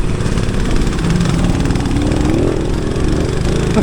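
A Keeway CR152 motorcycle engine runs steadily while riding off-road on an adventure ride in New Zealand, a loud buzzing single-cylinder drone with rising and falling pitch as the throttle changes.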